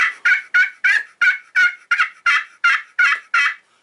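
A custom handmade turkey call blown in a steady, rapid run of about eleven loud, evenly spaced notes, close and alone with no talking.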